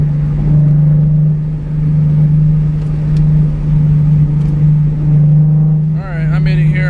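A Nissan Z sports car is driven, its loud, steady engine drone humming from inside the cabin, rising and falling gently as it cruises, with someone speaking briefly near the end.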